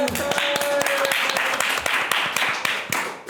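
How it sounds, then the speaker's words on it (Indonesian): Small group clapping behind the scenes of a talk show, a loose burst of hand claps close by with some voices mixed in. "Tepuk tangan dulu dong."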